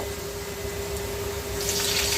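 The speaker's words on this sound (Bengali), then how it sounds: "এই পর্যায়ে যখন পেঁয়াজ ভাজা হবে এর মধ্যে আমি একটু পানি অ্যাড করব" Water is added to a pan of onions that are frying, giving a steady close hiss and rushing pour that grows louder toward the end.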